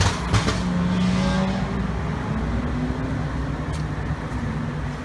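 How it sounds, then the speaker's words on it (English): Street traffic of several cars rolling past, a steady, fairly loud engine and road roar that holds throughout with no voices. "Cars are ridiculous on the street."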